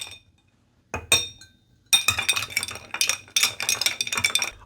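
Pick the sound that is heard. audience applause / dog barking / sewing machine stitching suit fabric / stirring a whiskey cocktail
stirring a whiskey cocktail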